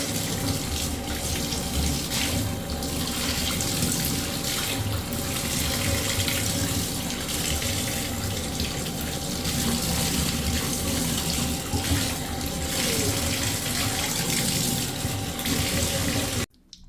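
Steady running water from a tap pours over a two-year-old's thick hair during a rinse, a continuous close rush that carries on for about sixteen seconds before cutting off abruptly.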